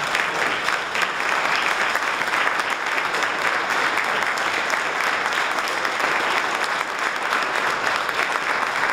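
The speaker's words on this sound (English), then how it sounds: "please help us give all of our veterans a great round of applause" Sustained applause from a large crowd at a Veterans Day ceremony, steady and loud throughout with no break, dense clapping filling the whole stretch.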